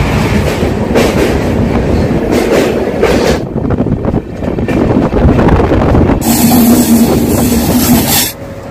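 The Mysore–Jaipur superfast express running through the Betul ghats in monsoon, a loud continuous roar of wheels and carriage rumble with wind buffeting the microphone, growing brighter and harsher near the end.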